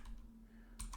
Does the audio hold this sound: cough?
no